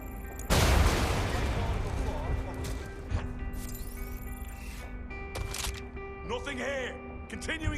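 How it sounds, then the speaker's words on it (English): Gunfire in Watch Dogs Legion opens with a loud, sharp blast that rings and decays into a lingering rumble. Game voices and electronic effects follow later. "I heard gunfire."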